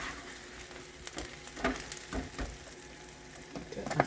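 Onions fry in a pan on the stove with a faint, steady sizzle, joined now and then by brief stirring scrapes and crackles, heard up close and quiet.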